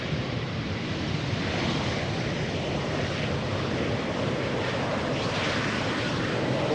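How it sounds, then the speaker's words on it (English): A Delta Airbus A330neo airliner arriving at Schiphol's Polderbaan runway gives a steady, loud broadband roar of jet engines that holds without a break, with no talk over it. "The next airplane, Delta A330 Neo."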